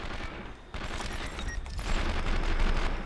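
Sustained gunfire from the PlayStation 2 game 24: The Game, a dense overlapping fusillade of rapid automatic shots that rises in loudness after a brief dip and continues steadily without pause.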